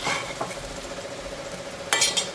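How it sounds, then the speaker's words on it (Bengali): Begun bhaja, eggplant fritters, frying in a pan on a gas stove, giving a steady close sizzle with faint stirring and utensil clinks, and a brief louder scrape near the end. "মানে বেগুনি ভাজা হইতেছে বাবুর জন্য।"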